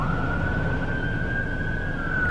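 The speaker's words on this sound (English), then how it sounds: "Like fire sirens." A distant fire siren holds a single steady wailing tone over a continuous low rumble of outdoor background noise.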